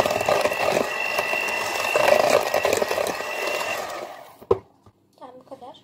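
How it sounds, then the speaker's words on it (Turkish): An electric hand mixer whisks cake batter, whirring steadily up close for about four seconds, then stops, and a voice speaks briefly afterward. "Mikserle bunları bir çırpayım."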